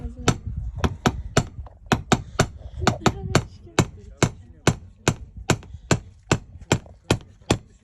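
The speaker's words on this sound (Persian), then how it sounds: "چکش با خودش چکش میزنه" A hammer strikes a car's window glass to break in after the keys were locked inside: roughly seventeen sharp, loud knocks at a steady, evenly spaced pace, close by, with brief voices in between.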